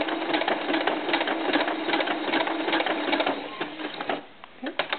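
Sewing machine stitching a doll's knit tank top, a fast steady mechanical whirr with rapid needle ticks, close and loud, slowing and stopping near the end with a few clicks.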